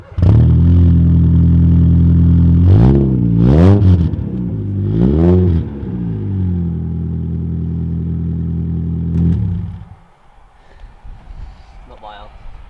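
A Rover Metro engine idles loudly then revs several times in sharp bursts through a new exhaust, throaty note rising and falling before cutting off, with faint voices after.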